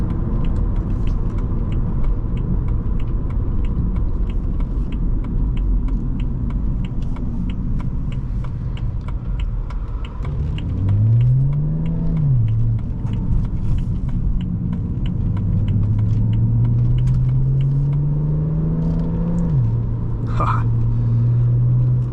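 A 2011 BMW 335i engine pulls hard under acceleration from inside the cabin, a steady loud rumble with rising engine tones sweeping upward, then climbing again in a long pull.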